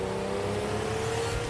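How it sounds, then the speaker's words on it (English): A 1985 Ferrari Testarossa's 5-litre V12 engine revs hard in a steady, loud drone with a rich harmonic tone, running continuously with no voices. "when you unleashed its 5-litre V12"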